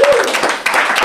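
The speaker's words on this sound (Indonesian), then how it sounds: "Tepuk tangan buat hari ini teman-teman." Audience at a casual comedy talk show in a coffee-shop setting giving a short burst of applause, loud and close, with voices talking over the clapping.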